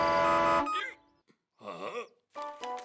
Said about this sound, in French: Si tu klaxonnes trop fort et que tu montes dans le rouge, tu es éliminé.